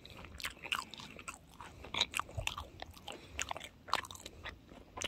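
Close, crisp bites and wet chewing of a Burger King Quattro Cheese Whopper meal with coconut shrimp and cheese sticks, irregular crunches and smacks repeating over a quiet background with no talking.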